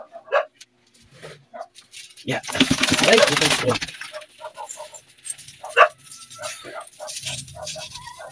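Dogs, a Chow and another, at bath time, giving short yips and whimpers between close-up talk in Filipino and English, with a loud splashing burst in the middle.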